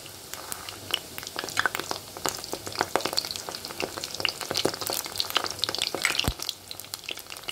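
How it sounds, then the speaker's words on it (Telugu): Pieces of bread frying in a pan, an intense crackling sizzle with dense popping and occasional stirring scrapes, close and continuous with no voices. "రెండు వైపులా కొంచెం దోరగా కలర్ వచ్చేటట్టు వేసుకుందాం. చూడండి, వేగిపోతున్నాయి."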